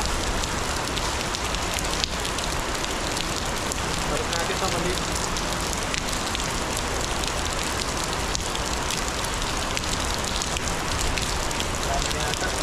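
Heavy rain pours down steadily and loudly throughout, a dense unbroken wash of drops, with a voice speaking briefly over it.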